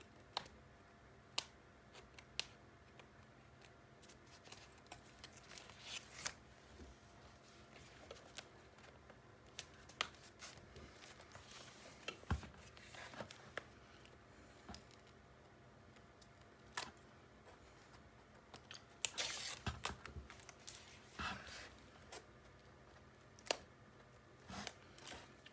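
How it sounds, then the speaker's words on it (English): Tape is picked at and pulled free in a quiet room, giving scattered small clicks, scratches and short tearing snaps, sparse and close, with no talk. "I can get in here and pull this tape out"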